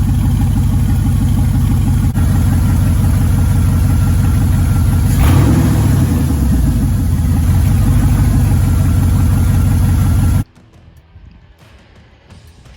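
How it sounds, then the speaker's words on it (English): A 5.3 LS V8 swapped into a Pontiac Firebird runs steadily at close range, a loud low rumble with a short rev swell midway before it cuts off and leaves faint background noise. "Okay, so I ran the engine."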